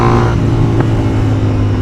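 A Honda CB300R motorcycle fitted with a Yoshimura R-77 full-system exhaust runs close and loud, giving a steady, throaty engine drone with strong low harmonics and a brief blip in revs.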